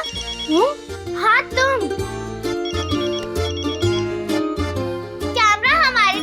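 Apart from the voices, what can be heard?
mobile phone ringing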